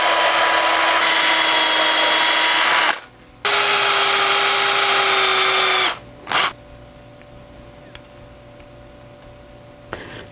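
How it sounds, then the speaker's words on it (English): A power drill whirs loudly in two sustained bursts drilling a hinge pin hole in a wooden fishing lure, winding down between them, followed by a short third burst and quiet handling noises. "Now I need to drill a hole for the hinge pin on the center section."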